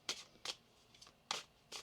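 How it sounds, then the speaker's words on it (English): Tarot cards shuffled in quick, quiet riffles, four or five soft papery bursts spaced unevenly across a brief stretch, close and alone without talk. "One more shuffle here, please, Anne."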